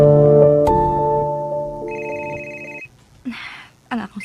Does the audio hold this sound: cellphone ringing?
yes